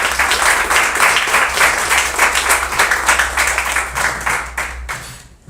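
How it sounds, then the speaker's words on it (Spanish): An audience at a Spanish-language science talk on women in science applauds, sustained and loud for about five seconds, then tapers off abruptly with a low hum underneath throughout. "le damos un fuerte aplauso a todas"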